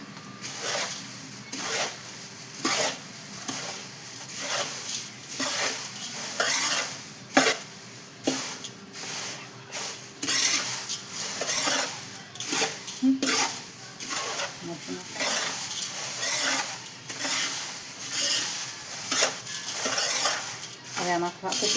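Metal spoon scrapes and clinks against a pan while roasted poha is stirred with fried chillies and curry leaves, in irregular repeated strokes with light sizzling underneath.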